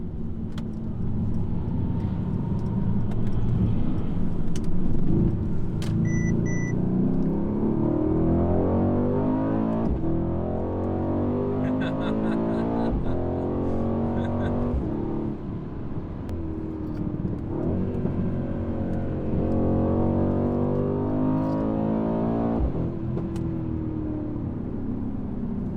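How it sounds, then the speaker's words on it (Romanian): Exhaust of a Mercedes C63s AMG, picked up close by a camera on the bumper, drones and rumbles while driving, with repeated rises and falls in revs over road and wind noise. "Sunt curios de fapt cum se aude evacuarea mea din exterior de la GoPro-ul lipit pe bară."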